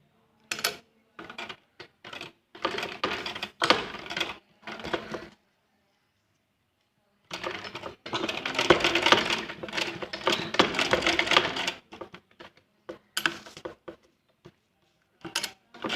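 A sewing machine stitches fabric for a small doll outfit in two bursts of rapid mechanical clatter, up close, separated by short pauses and ending in scattered brief runs.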